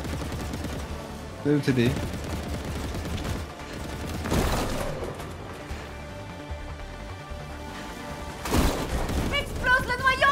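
Gunfire in the video game Split Fiction, with loud bursts of shooting and booming impacts every few seconds over a constant game background, while a player's voice talks briefly.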